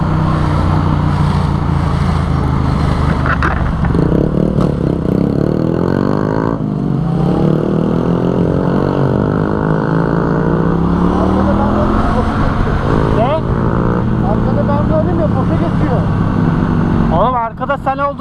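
A Yamaha MT-07 motorcycle with lowered suspension drones steadily up close, its engine note rising and falling through gear changes as it is ridden, with a brief rattle near the end.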